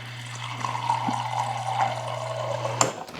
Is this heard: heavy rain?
no